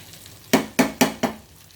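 Stuffed brinjal curry spread with onion-chilli masala fries in a pan, giving four sharp, evenly spaced bursts of sizzling and stirring against a quiet background.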